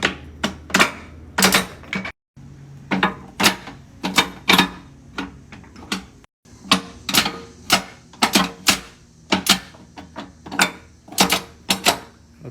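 A tractor transmission is shifted through its gears by hand during reassembly, giving a series of sharp, close metallic clunks and clicks at an uneven, steady pace, alone with no talk.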